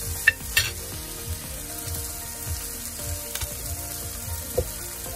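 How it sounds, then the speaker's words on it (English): Fried pork belly sizzles in a pan while being sautéed, with repeated scraping stirs and light clinks of a utensil against the pan, heard up close with no talking. "Keep on sauteing."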